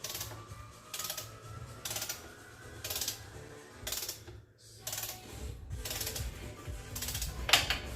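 A ratchet wrench tightens bolts on a bike in a shop, giving evenly spaced bursts of quick ratcheting clicks about once a second with a brief pause midway, close and clear with no talking.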